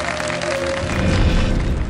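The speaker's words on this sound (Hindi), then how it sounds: "बहुत सारी दुआओं और बहुत सारी तालियों के साथ ब्रेक पे जाएंगे।" A television studio audience bursts into steady, full applause on a Ramadan segment of a news show, a dense continuous clatter of clapping that swells slightly and holds to the end.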